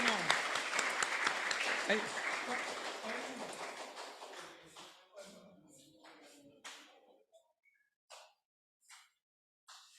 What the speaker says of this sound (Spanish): para ellos un aplauso entonces por haber terminado el libro 1